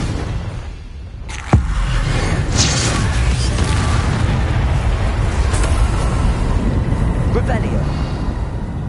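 The Confringo spell in Hogwarts Legacy goes off with one sharp explosive boom, then a rumbling, crackling tail that stays loud among game effects while a voice speaks over it.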